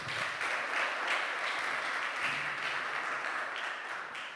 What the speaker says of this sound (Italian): questo applauso va dedicato a loro che organizzano questa cosa